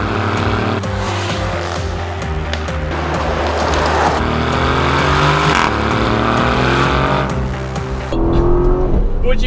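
A 2018 Aston Martin Vantage engine with its standard exhaust rumbles and roars steadily, the exhaust note rising and falling with revs, loud and close throughout.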